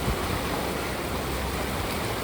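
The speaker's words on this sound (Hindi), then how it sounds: "ये आ रही है पतित पावनी माँ गंगा।" Fast-flowing River Ganges at a ghat in Rishikesh on a September evening, a steady, loud broadband rush of water that stays constant and close throughout with no voices.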